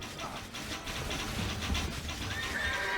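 A horse neighs in the medieval strategy video game Stronghold Crusader, a fairly faint whinny over clip-clopping hooves and busy battle noise.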